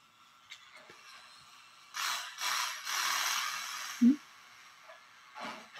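A robot eye screwed into a socket in an ASMR repair scene, giving close, soft scraping and grinding twists in a few short bursts, with a small click partway through, quiet and intimate with no talking.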